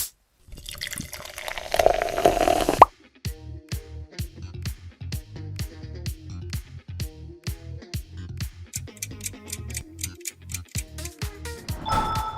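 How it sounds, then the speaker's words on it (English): Coca-Cola audio logo: a bottle of fizzy drink opens and pours with a bubbling hiss for about two seconds, then a bright, rhythmic jingle of short plucked notes plays on, with no talking. "This fizzy sound is super iconic."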